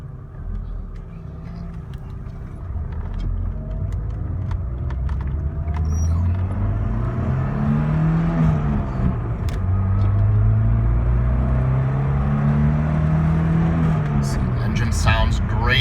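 A 1985 BMW 318i engine pulls from inside the moving car, its note rising and falling through the gears in a steady, fairly loud drone with road rumble beneath and a voice talking over it.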